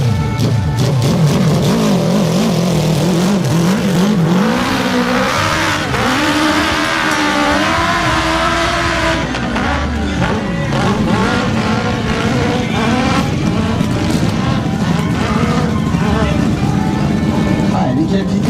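A hill-climb motorcycle at the Arette round races up a steep slope, its engine revving loudly and continuously with rising and falling pitch, while a commentator talks over it throughout.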